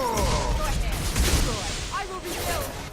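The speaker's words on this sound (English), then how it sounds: "I immediately take out my shotgun and take it out" Shotgun blasts in the sci-fi shooter Mass Effect 2, heard as dense, booming gunfire set against a busy wash of game effects, with someone talking over the action.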